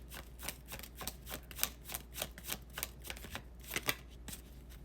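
A deck of tarot cards is shuffled for a one-card draw, giving a steady series of crisp riffling snaps and flutters, close and clear with no talk over them.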